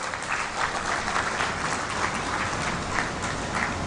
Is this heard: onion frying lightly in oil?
no